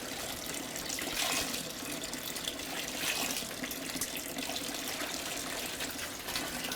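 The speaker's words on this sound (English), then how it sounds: "rinse my cup out" Tap water runs steadily at mixed warm temperature while a cup is rinsed out beside a Haier HPL21N portable washing machine, a continuous close splashing hiss with slight shifts as the cup moves under the stream.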